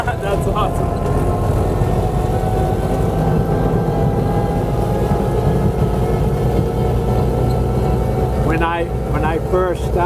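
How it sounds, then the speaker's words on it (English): A passing Model A Ford engine rumbles steadily and loudly throughout, a continuous low mechanical drone with voices talking over it near the end. "he loves to hear the sound of a Model A Ford engine"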